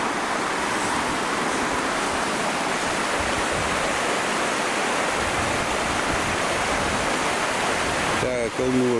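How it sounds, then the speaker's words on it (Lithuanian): A mountain river rushes with a loud, steady broadband roar that fills the whole span, close by, with a brief voice breaking in at the very end. "Teka kalnų upė."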